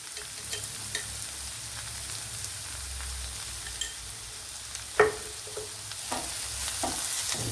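Sliced onions with salt sautéing in a pan, a steady soft sizzle running throughout, broken by occasional light stirring taps and scrapes of a spoon.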